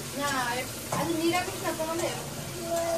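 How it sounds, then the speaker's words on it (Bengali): Potatoes and onions sizzle side by side in hot oil in a pan, making a steady soft hiss beneath a voice that talks throughout. "গরম আলু ভাজা হচ্ছে, আর এইদিকে পেঁয়াজ ভাজা হচ্ছে"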